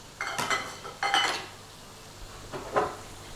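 A curry in a restaurant-style pan gets stirred and scraped across the bottom with a utensil, three short, close metallic scraping strokes over a faint background sizzle.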